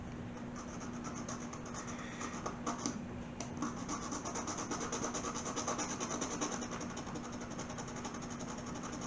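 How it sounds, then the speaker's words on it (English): A file rasps steadily across a metal car key blank being cut by hand, a continuous gritty scraping with faint rhythmic strokes and a steady background hum. "That's because we've been filing on it."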